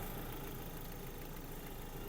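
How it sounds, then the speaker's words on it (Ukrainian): An Opel Zafira 1.8 engine idles steadily, a constant low hum and hiss with no change in speed, faint and continuous throughout. "Робота двигуна, двигун працює чітко"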